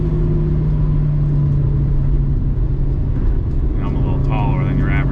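A Honda Civic engine drones steadily while driving, then revs harder near the end as VTEC engages, its pitch climbing in a few rising pulls over constant road and cabin noise.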